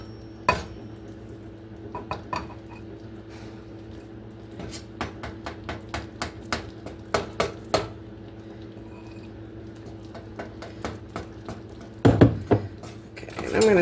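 A utensil scrapes and clinks against a pot while powdered sugar is stirred into warm cinnamon-roll icing, a run of soft rhythmic knocks building to a louder clatter near the end, heard alone without talk.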